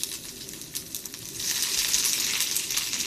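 Green onions, white and green parts together, frying in sesame oil in a frying pan. A soft crackle grows into a louder, steady sizzle about halfway through, with no voices.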